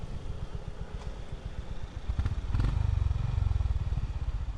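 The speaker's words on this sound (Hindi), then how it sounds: "बैकफायर मारती है गाड़ी प्रॉपर." A retro roadster motorcycle's exhaust thumps along at a steady beat, then lets out a couple of sharp backfire pops before the engine note swells louder and closer.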